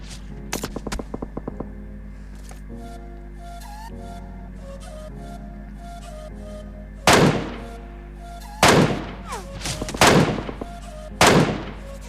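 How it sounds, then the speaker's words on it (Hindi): Gunfire in a battle royale mobile game, four sharp loud shots spaced a second or so apart late in the clip over a steady game soundtrack hum, preceded by a quick rattle of lighter clicks; no talking. "अब जोन में भाई बचा था एक बंदा और वो भी भाई मुझ पर फायर करके अपना लोकेशन बता देता है।"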